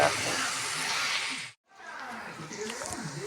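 Sliced onions (sabola) sautéing in a pan with salt and turmeric give off a steady close hiss of frying. The sizzle breaks briefly, then resumes, and a voice talks over it.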